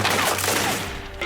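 Volley of gunfire in a dramatized reenactment of the Jeju 4.3 massacre, a dense continuous crackle of shots lasting just over a second, steady and fairly loud, with no talk over it.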